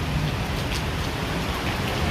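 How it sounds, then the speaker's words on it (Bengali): Heavy rain pours in a dense, steady roar at night, a continuous broadband wash with no pauses and no speech. "কি জোরে বৃষ্টি হইতেছে"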